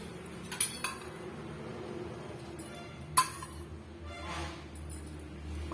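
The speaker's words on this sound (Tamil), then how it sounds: "சேர்த்துட்டு கிண்டி விட்டுட்டே இருக்கலாங்க நல்லா வந்து திரண்டு வரணும்" Pineapple halwa with ghee being stirred in a pan, a spoon scraping and clinking against the metal in a few sharp knocks over a soft, steady background.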